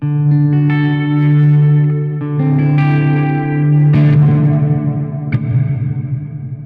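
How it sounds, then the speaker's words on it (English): EarthQuaker Devices Dispatch Master reverb pedal pushed to extreme settings, a sustained, heavily washed guitar tone with long swelling reverb tails and echoes, loud and continuous, no talking. "That's big enough reverb for most people"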